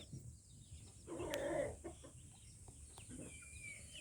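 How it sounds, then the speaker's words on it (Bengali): Farmyard chickens give a short burst of clucking around the middle of the clip over a low ambient background, with a few quieter calls afterward. "কতগুলো মুরগি এখানে, বড় বড় একটা বাসের এখানে।"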